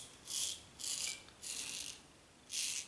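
A Merkur Progress DE safety razor rattles in four short, bright bursts of metallic jingling, each about half a second long and heard close up and alone against a quiet background.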